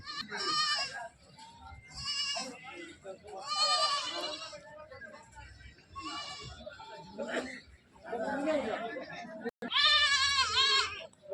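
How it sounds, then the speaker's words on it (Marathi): Osmanabadi goats bleating at a goat and sheep market in Talegaon Dhamdhere, with repeated loud, quavering bleats from several animals close by, mixed with people talking. "उस्मानाबादी शेळ्या आहे"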